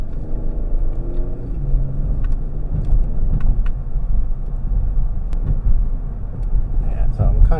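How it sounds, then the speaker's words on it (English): A 2022 Kia Stinger GT's V6 with the standard exhaust drones steadily while driving, a constant low rumble with a few small clicks and rattles from the cabin and no clear revving. "I think the Stinger's V6 sounds pretty nice. And this is just the standard exhaust"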